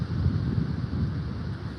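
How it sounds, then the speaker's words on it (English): Strong wind buffets the microphone outdoors in Chicago, a steady low rumbling roar with gusty swells and no voice over it. "It's pretty windy out here."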